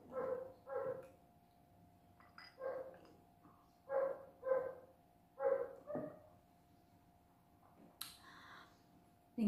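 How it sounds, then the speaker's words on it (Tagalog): A neighbour's dog barks in a series of short, moderately distant woofs with pauses between them, heard against a quiet background with a steady low hum. "Maingay yung aso na, sa kabila dun sa may parang ano"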